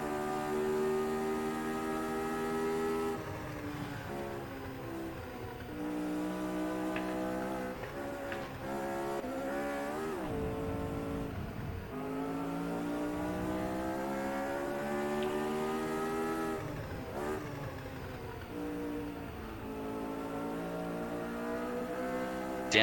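A Lotus 79 race car in a racing video game drones steadily at high revs, its engine pitch climbing through gears and dropping on downshifts for corners, loud and continuous with no voices.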